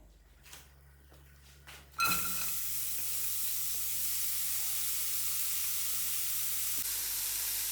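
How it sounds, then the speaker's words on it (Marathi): Quiet kitchen noise and a few knocks first, then a sudden loud hiss as onion and tomato hit the hot pan, settling into a steady, even sizzle for the rest. "तर आपल्याला सगळ्यात आधी आता कांदा आणि टोमॅटो चांगलं परतून घ्यायचं आहे"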